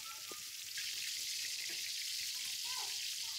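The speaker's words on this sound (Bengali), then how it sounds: "তো লাল লাল করে মাছটা আমি এখন উল্টিয়ে পাল্টিয়ে ভেজে নিলাম।" Pieces of rohu fish frying in hot oil in a wok, a loud steady sizzle that swells and stays close throughout, with faint clinks of the pan underneath.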